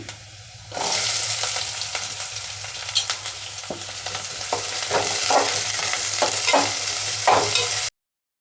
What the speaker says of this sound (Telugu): అల్లం వెల్లుల్లి ఉల్లిపాయలు అయితే బాగా వేగిపోయినాయి